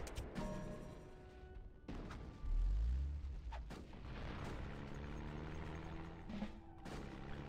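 Artillery booms and gunfire crackle in the real-time strategy game Rise of Nations, with a heavy deep blast near the middle over a steady din of distant battle sounds.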